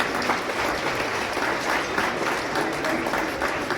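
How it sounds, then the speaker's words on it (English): A gala audience applauds at the 18th Annual California Maritime Academy Foundation Scholarship and Awards Gala, a dense, steady wash of many hands clapping that fills the room and holds at an even level throughout. "give yourselves a big round of applause just for showing up tonight"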